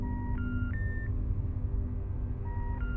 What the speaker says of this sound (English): That's the noise of like a digital telephone, not a rotary phone if I'm not mistaken.